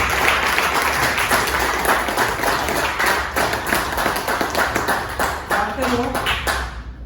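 Loud, dense applause from an audience at a celebration program, sustained steadily for several seconds with a few voices mixed in near the end.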